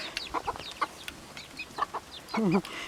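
Chickens clucking outside the coop while searching for food, several soft nearby clucks and short calls scattered throughout, ending with a louder drawn-out squawk.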